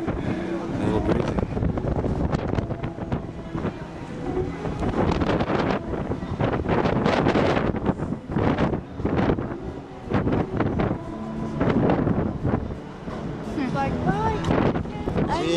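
Wind gusting across the open deck of a cruise ship in Alaska, a loud, steady roar of microphone buffeting with surging gusts throughout, with faint voices beneath it.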